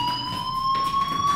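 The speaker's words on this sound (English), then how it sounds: "do you hear that fire alarm? That means you should be outside." Fire alarm ringing steadily inside a school building in the game Life is Strange, a continuous high electronic tone with harmonics sounding alone and fairly loud throughout.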